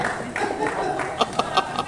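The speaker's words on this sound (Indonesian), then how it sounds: "Tepuk tangan." At a church parish committee gathering in Pontianak, a few quick claps of applause ring out near the end, faint and brief, with a voice talking over them.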